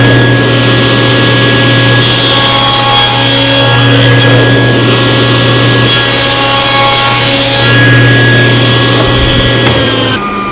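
A table saw with a stacked dado set cuts a rabbet in a wooden crate piece, producing a loud, continuous, rough whirring rasp with a steady motor hum beneath, swelling slightly as the blade bites.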